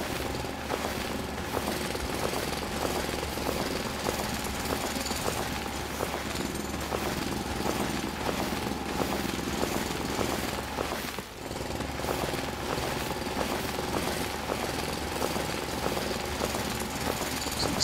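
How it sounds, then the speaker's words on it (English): Rapid mechanical drilling from the video game Foundry chatters steadily for nearly eighteen seconds, a dense repetitive hammering rattle over a low engine hum, with one brief dip near the middle. "We can do some drilling, because that's always exciting to do on a video."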